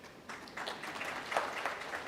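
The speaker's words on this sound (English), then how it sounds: "what are you clapping your hands for?" An audience claps at a spoken talk, with a short, moderately loud patter of many hands that starts after a brief pause and holds steady, heard from a slight distance.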